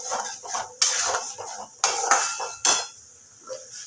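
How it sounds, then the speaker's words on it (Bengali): Whipped yogurt stirred into catla fish curry in a pan, several sharp metal clanks of the spoon against the pan between softer scraping, close and fairly loud. "ভালো করে একটু নাড়িয়ে নেব।"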